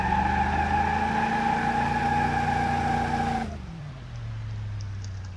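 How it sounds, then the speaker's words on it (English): A Buick Roadmaster in the BeamNG driving game doing a slow brake stand burnout, with a loud sustained engine drone and tire squeal that cuts off abruptly and drops to a low idle rumble. "can it actually do a brake stand burnout?"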